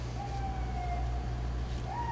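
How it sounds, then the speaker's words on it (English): An emergency siren passes outside an open window with long, gliding wails that rise and fall, heard at a distance over a steady low hum. "No, it was just a siren."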